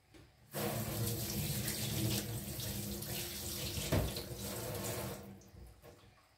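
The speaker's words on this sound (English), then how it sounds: "I'll wash my hand." Running water from a kitchen tap pours steadily for about five seconds as hands are washed under it, a loud continuous splashing hiss with a brief clunk midway, no voices.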